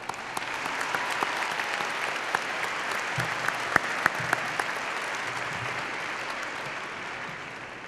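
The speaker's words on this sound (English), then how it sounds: "So everyone give a round of applause to your parents." Steady applause from a graduating class and audience at the 2016 Dodge City High School commencement ceremony, honouring parents; dense, sustained clapping fills the whole stretch at an even level with a few sharper claps standing out.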